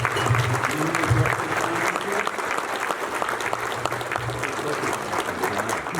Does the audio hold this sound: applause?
yes